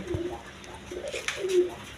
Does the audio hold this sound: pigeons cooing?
yes